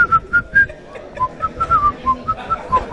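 A person whistles a vallenato melody with clear, close, bright notes, mostly short phrases in a lilting rhythm. A soft patter of background noise sits underneath.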